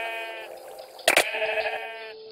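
Sheep in the Minecraft minigame Sheep Quest: a wavering, nasal bleat at the start, then a sharp clatter and a second shorter bleat, close and fairly loud.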